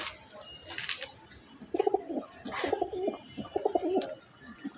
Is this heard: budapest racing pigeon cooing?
yes